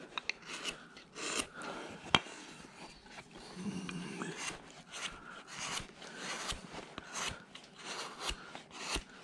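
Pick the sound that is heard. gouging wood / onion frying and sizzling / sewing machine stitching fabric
gouging wood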